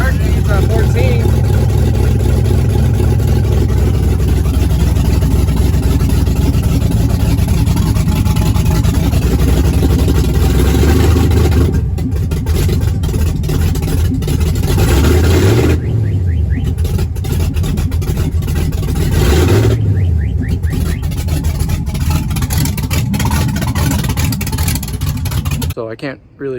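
A 1967 Camaro with an LS1 swap engine runs loud and close, a steady heavy rumble with a few brief revs and dips near the end.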